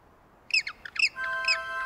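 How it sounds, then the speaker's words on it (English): A cartoon penguin family calls out in a string of bright, squawking honks, several quick calls in a row standing out clearly against a quiet background. "Could that be the sound of Mr. Penguin's family?"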